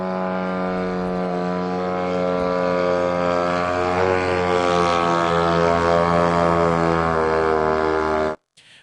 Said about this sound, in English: that's one of those drones that are already coming in